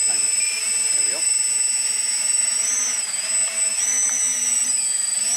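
Ares V-Hawk RC VTOL airplane with its electric motors at full throttle, a steady high-pitched whine that holds loud and close throughout with slight pitch shifts, with low harmonic drone beneath.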